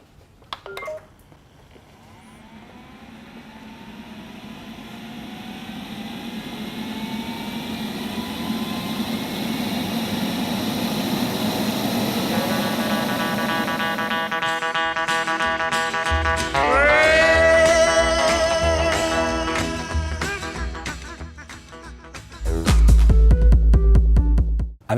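A robot vacuum cleaner runs its suction at full power, with a whine that builds steadily like a jet taking off, followed by tonal beeps and a deeper rumbling hum near the end.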